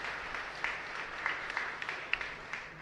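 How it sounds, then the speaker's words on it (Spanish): A congregation claps for the choir at a Mass in a chapel, a steady wash of applause from many hands, moderately distant with a few sharper claps standing out. "Un fuerte aplauso para el coro, demasiado lindo estos chicos."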